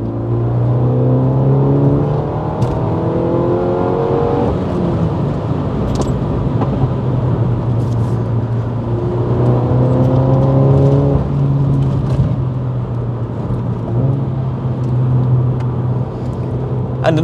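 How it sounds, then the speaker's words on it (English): A tuned Stage 2 Mini Cooper S JCW F56 hatchback accelerates steadily in a sustained loud engine drone with rising, stepping revs, and a few sharp exhaust crackles and pops break through above it, with no talking. "the exhaust is crackling and popping"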